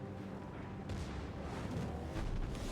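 Heavy naval guns of the battleship Kremlin boom in a naval warfare game, a muffled rolling salvo with a sharp onset near the middle and another swell toward the end over steady battle noise.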